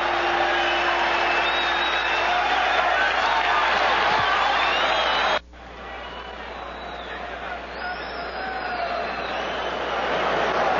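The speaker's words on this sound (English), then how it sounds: "Crowd echoed that one" A large boxing arena crowd at Marvin Hagler versus Mustafa Hamsho roars steadily after a right hook lands, a dense sustained cheer that dips abruptly midway and swells again, with commentary voices over it.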